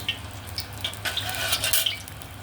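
A fried egg sizzles in oil in a pan with a steady crackle, punctuated by small pops and the light clink of a utensil nearby.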